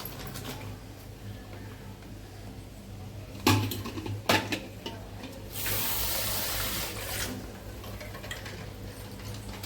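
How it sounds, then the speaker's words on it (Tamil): Eggs being rinsed and dropped into water in a cooking pot, with a running tap in a home kitchen: a couple of sharp knocks and splashes, then a steady rush of water, close and moderately loud with no talk. "முட்டையை கழுவி தண்ணியில் போட்டுடலாம்."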